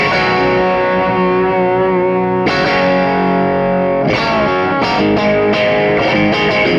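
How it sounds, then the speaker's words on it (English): Electric guitar through an AMP1 amp and TONEX pedal with a big spring reverb, loud distorted chords ringing out alone, with fresh strums at intervals and a washy reverb tail sustaining between them. "you can hear there's that big spring reverb sound."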